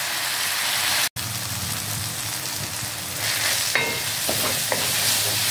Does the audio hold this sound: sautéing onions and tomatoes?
yes